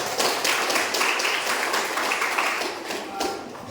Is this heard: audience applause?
yes